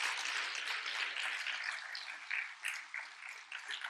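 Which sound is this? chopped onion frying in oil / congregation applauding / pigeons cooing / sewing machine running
congregation applauding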